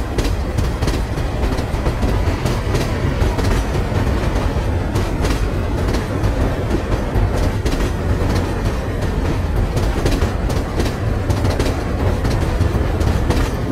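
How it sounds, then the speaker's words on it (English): A Chennai suburban local train runs past with loud steady rumble and rhythmic clickety-clack of wheels over rail joints, close by and continuous throughout, without voices. "Tiruval to Chennai Central local is going towards Chennai Central Railway Station."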